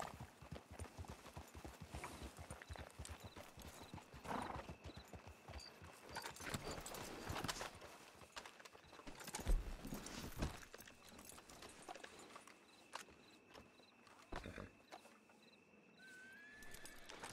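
Horse hooves clip-clop in a steady rhythm with an occasional whinny, heard from a horse in the Red Dead Redemption 2 video game, moderately loud over ambient game sounds.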